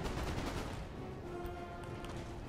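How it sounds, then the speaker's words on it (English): Napoleonic-era artillery fire in Napoleon Total War, with repeated cannon booms and rattling gunfire heard from a distance, a low rumble of battle carrying on in the background. "The artillery pounds their position."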